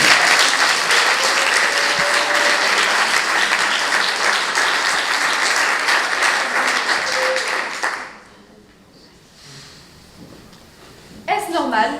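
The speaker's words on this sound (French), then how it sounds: "elle a besoin d'un peu d'applaudissements" A school audience at a middle-school eloquence contest gives a speaker sustained, dense applause for about eight seconds. It then drops to a quiet room with a brief murmur, and a short burst of noise returns at the end.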